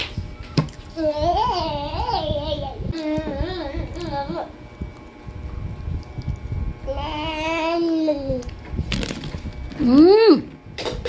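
Young children at home babbling and wailing, with high, wavering cries rising and falling in several long bursts, near and loud, with adult talk mixed in.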